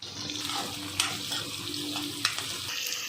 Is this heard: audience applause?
no